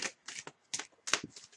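Tarot cards being shuffled by hand in quick riffling bursts separated by short pauses, crisp papery clicks heard close up with no voices.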